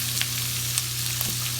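Cabbage frying in a pan gives a steady, close sizzle with a constant crackle, and a few faint clicks of stirring sound over it.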